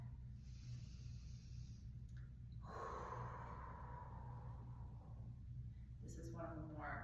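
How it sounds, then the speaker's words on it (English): Slow, audible breaths during a Kundalini yoga hip-opening practice, a soft inhale building into longer hissing exhales, close and quiet over faint background noise. "Just continuing with that inhale as we come forward and exhale as we come back"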